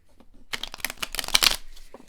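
Tarot cards being shuffled by hand, a quick run of dense papery riffling and flicking that starts after a brief quiet pause and continues steadily, close and fairly soft, with no talking.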